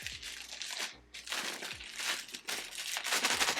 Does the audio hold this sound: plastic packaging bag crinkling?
yes